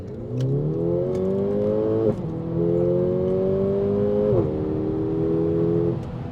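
A Mercedes-Benz CLA AMG Shooting Break accelerates hard in Sport Plus mode. The engine note climbs loudly and close, then drops at two quick gear changes and climbs again after each, with no speech.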